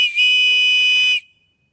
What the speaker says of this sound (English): the last thing here is the whistle, and I will blow it here just so turn your volume down now if you don't want to hear the whistle.